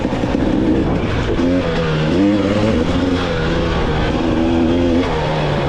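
A 2021 GasGas 300 EC dirt bike engine revs up and down in rising and falling pitches, loud and close, with constant wind noise over it, on a trail bike track.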